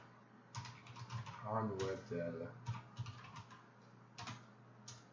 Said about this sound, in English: I'm just copying or typing this in from right here